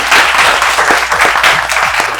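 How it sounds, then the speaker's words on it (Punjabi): A group claps together in a dense, steady burst of applause that stays loud throughout, with a faint voice mixed in underneath. "ਮੈਂ ਕਹਿੰਦਾ ਤਾੜੀ ਲਾਓ ਯਾਰ ਇੱਕ ਵਾਰੀ"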